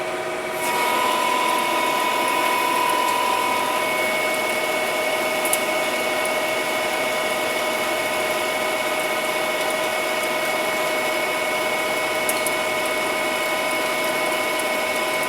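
A steel shaft for a Peddinghaus bandsaw being faced and center drilled on a manual lathe in a machine shop: a steady, close machine hum with a thin constant whine running throughout, with no talking.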